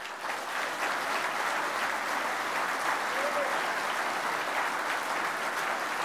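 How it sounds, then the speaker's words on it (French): Sustained applause from an audience at a political speech in Châteaudun, France, steady and dense clapping throughout with no break. "j'aimerais qu'on le refasse, que vous l'applaudissiez"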